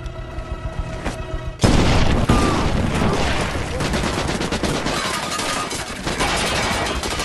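Explosion and gunfire amid tense conflict, with a heavy blast giving way to dense, continuous rattling shots and loud bangs, close and sustained, layered with rumbling debris.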